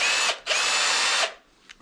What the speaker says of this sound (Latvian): vakarā mēs pātro šito iedarbinājām ar urbi